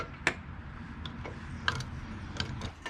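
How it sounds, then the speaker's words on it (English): A ratchet works a lug nut off a boat trailer wheel, giving scattered light clicks and ticks at close range over a low background rumble. "First, the lug nut off."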